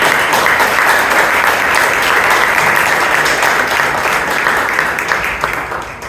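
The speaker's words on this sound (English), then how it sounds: "Let us give a lot of applause for that." Loud, sustained applause from an audience at a Toastmasters club meeting in Bangalore, following a presidential address; dense clapping holds steady throughout and fades slightly at the end.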